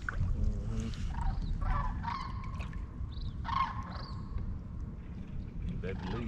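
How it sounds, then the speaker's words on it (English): A flock of geese flying overhead honk intermittently at a distance over a low rumbling background, with faint voices talking. "That lead bird calling up."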